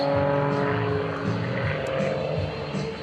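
An aerobatic propeller plane with a 400 horsepower engine flies low past the crowd, its loud droning engine holding a steady pitch throughout with little change in distance.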